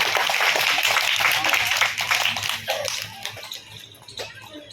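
Listeners at a Buddhist teaching gathering in a village clap together in a thick, loud burst that gradually thins and fades toward the end.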